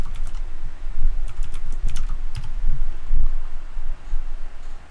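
Keyboard typing for a search entry, a rapid irregular run of close, crisp key clicks in bursts with short pauses, no talking.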